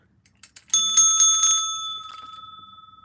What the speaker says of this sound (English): hit that little bell for notifications